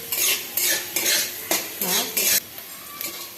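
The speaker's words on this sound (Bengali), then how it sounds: "লঙ্কাগুলো পেঁয়াজগুলোকে দিয়ে দিতে হবে, কিছু পরিমাণ ভাজতে হবে" Chillies and onions frying in oil, stirred in a pan with a metal utensil: about six close, loud scraping strokes in a steady rhythm over a faint sizzle.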